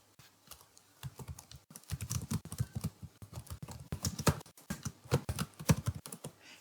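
Steady computer keyboard typing as title text is entered in Kdenlive video editing software, with many quick close keystrokes in uneven bursts. The clacking builds from sparse taps into dense, fairly loud runs, and no voice is heard.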